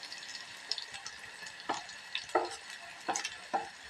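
Ginger-garlic paste for a mango mutton curry is stirred in a hot pan, giving quiet, irregular scrapes and soft wet clicks over a faint sizzle.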